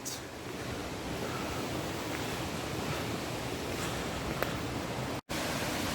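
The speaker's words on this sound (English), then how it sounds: "it gives a lovely view of a succession of little falls as the Spodden starts to drop dramatically" Small waterfalls on the River Spodden rush in a steady, full roar of falling water, constant and close, with no voices.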